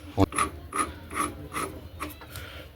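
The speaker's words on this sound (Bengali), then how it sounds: "এবারে এর ম্যাগনেট পুলারটা লাগাবো। এই হচ্ছে ম্যাগনেট পুলার" A ratchet wrench clicks in short, rhythmic strokes while a magnet puller is fitted and tightened on a Honda Shine 125 motorcycle, close and crisp with a light metallic knock at the start.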